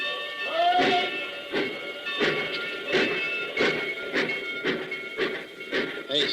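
A passing train in an old-time radio thriller, with rhythmic clickety-clack wheel beats repeating steadily under sustained whistle-like tones and a brief rising squeal near the start, fairly close and loud.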